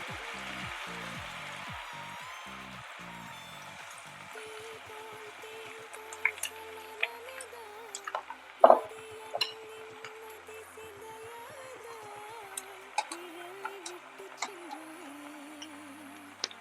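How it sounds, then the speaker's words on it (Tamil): Vegetable vada batter frying in hot oil, a steady low sizzle running throughout with occasional ticks and pops, while someone talks over it. "எடுத்து எண்ணெயில் எடுத்து விட்டு நல்லா அகலமாக தட்டி விடணும்."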